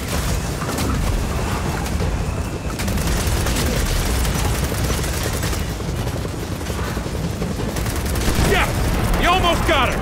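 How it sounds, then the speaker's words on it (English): Explosions, gunfire and booming impacts from incoming rockets in Gears of War 4, a dense, continuous loud barrage throughout, with voices talking over the combat. "Heads up! More rockets!"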